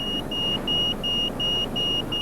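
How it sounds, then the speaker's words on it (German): A suitcase anti-theft alarm emits a loud, repeating electronic beep, sounding in evenly spaced pulses over a low background rumble, with no talk. "Ohne den warnenden Alarmton wäre der Koffer wohl verloren gewesen."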